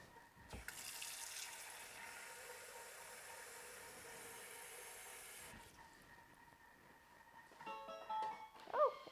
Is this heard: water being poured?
yes